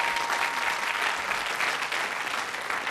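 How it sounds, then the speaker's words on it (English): A game show studio audience applauds, a dense and steady clapping that holds at full strength throughout. "Round of applause."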